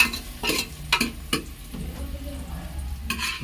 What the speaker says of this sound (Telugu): గోల్డెన్ కలర్లోకి వచ్చేలాగా మంచిగా ఆనియన్స్ని ఆయిల్లో డీప్ ఫ్రై చేసుకోవాలి